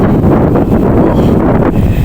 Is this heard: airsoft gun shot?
no